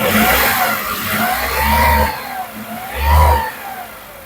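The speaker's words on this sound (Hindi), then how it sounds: "चलिए इसको स्टार्ट करते हैं, इसकी आवाज़ सुनते हैं।" A 2025 Tata Altroz CNG car engine runs close by, revving up in two distinct surges with a rising and falling mechanical drone between them.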